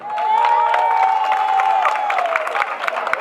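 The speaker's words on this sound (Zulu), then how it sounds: "asishayele izandla" Audience applause and cheering at a Miss Umkhonto weSizwe Ward 86 pageant, loud dense clapping with cheers sustained throughout, and a whistle-like tone gliding through the middle.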